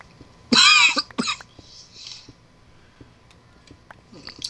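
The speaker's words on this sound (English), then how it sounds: "I've just had the cough ever since" A person coughs close by in two quick dry bursts early on, then faint small ticks and a soft throat sound over quiet room background.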